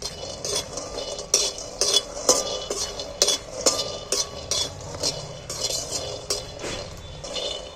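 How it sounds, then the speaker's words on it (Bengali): Sharp crackling and popping from still-moist peanuts frying in a pan, irregular bursts with occasional clinks of a utensil, no voices. "এখনো রস আছে, ওই জন্য চটচট করছে।"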